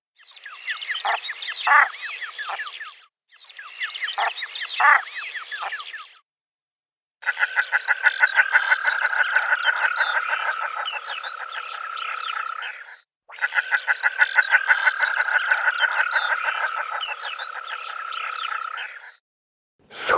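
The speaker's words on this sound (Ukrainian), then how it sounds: "І ви лише послухайте, як Галагас звучить." A common shelduck (Tadorna tadorna) gives loud, close calls in four long bursts of rapid, buzzy, rattling notes separated by short silences, with no other sounds around them.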